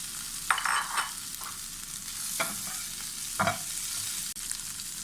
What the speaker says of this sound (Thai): จากนั้นก็ใส่เนื้อปลาทูนะคะ